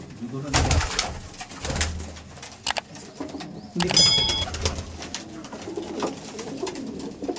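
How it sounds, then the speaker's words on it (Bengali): Adult Abluk pigeons coo and call inside a loft, a soft, continuous stream of cooing with occasional louder bursts and some voices talking nearby. "এখানে সব অ্যাডাল্ট পিয়ার আছে"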